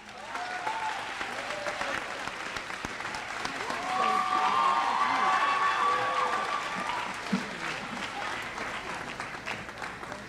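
Audience applause fills a high school graduation ceremony for the Buffalo Arts Academy class of 2019, a steady wash of many hands that swells louder in the middle and then eases off slightly.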